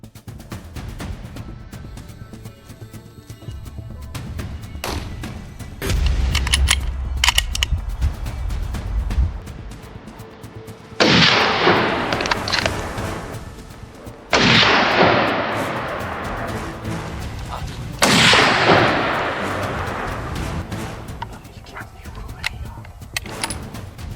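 Gunshots ring out during a wild boar hunt outdoors: three loud, sharp bangs a few seconds apart, each trailing into a long echoing decay, with scattered smaller knocks and rustling in between.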